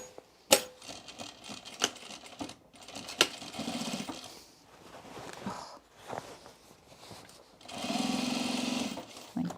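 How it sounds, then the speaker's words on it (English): Sewing machine top-stitching the side seam of a pair of overalls, quiet, intermittent short runs of needle chatter separated by pauses and handling noises, with a longer steady run near the end. "I think I'm going to top stitch this side seam"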